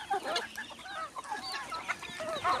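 Free-range native village chickens roaming a half-acre natural farm cluck and chatter nearby, a busy overlapping stream of short calls from several hens with no talking.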